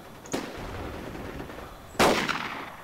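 Sniper rifle gunshots in the military shooter game Project Reality, two sharp distant-sounding cracks about a second and a half apart, the second louder with a short rolling tail.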